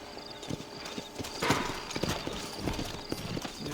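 Horse hooves in Red Dead Redemption clip-clop in an uneven walking rhythm across New Austin ground, moderately close, with a faint neigh and soft game ambience around them.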